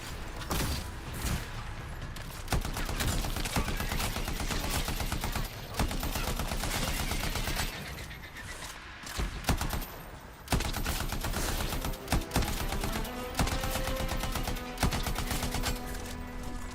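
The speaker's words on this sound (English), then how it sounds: "Shooting some rockets" Rockets and rapid gunfire in the video game Anthem, a dense, continuous barrage of loud shots and blasts that runs almost without pause, with brief gaps and shifts in intensity.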